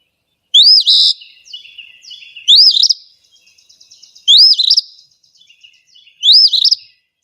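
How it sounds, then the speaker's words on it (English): Four bright, sharp two-part eastern phoebe calls repeated at regular intervals, loud and close, with faint softer chirps between them. "here is the call of the eastern phoebe"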